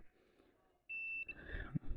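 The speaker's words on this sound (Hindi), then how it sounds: "तो उसके लिए हम दोबारा से इस बज़र मोड पर जाते हैं" A multimeter in buzzer mode, testing a filter capacitor on an Embraco VCC3 inverter compressor board, gives a single short, faint high beep, followed by quiet handling noise.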